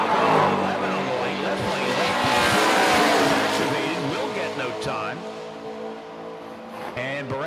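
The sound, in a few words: Mustang drag race car launching down the strip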